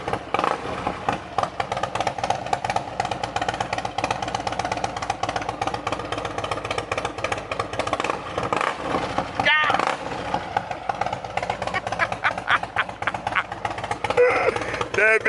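2020 Harley-Davidson Street Glide Special with an illegal modified exhaust and Thunder Max tuner, idling with a deep throbbing rumble and a few throttle blips near the end, while people talk nearby.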